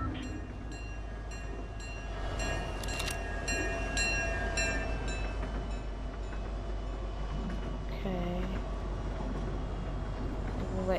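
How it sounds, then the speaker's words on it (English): A train rumbles past in Fortnite Chapter 5 Season 2 gameplay, a steady mechanical roar with clattering and a brief horn-like tone near the end, while faint voices talk over it. "Train's coming."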